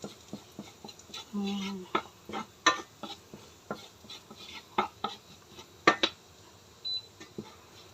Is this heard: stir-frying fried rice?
yes